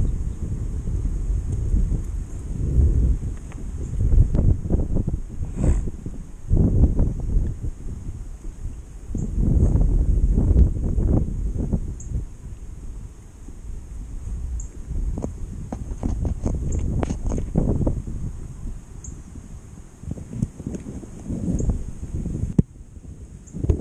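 Steady outdoor wind buffets the microphone, low rumbling gusts rising and falling with faint rustling throughout, no voices.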